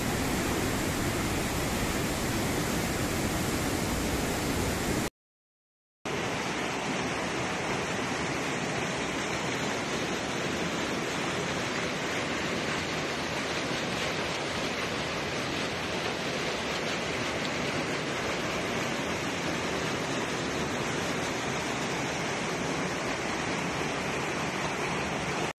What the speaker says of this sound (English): Feel the many moods of water, become like water, rushing forward on a forward path of high energy, high velocity